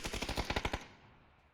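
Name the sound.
gunshots in the video game PUBG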